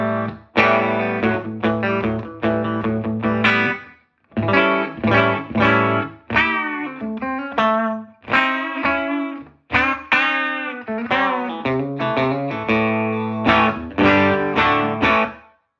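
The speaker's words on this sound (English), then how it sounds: "This is the bass control all the way up to get, what I would call the big glassy Tweed sound with big bass." Electric guitar through a 1959 Fender Super tweed amp with the bass control turned all the way up, full ringing chords and single notes with heavy low end, strummed in bursts with brief pauses, loud and close.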